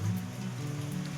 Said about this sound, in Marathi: आता पाऊस आलाय, मी जात नाही तिकडे.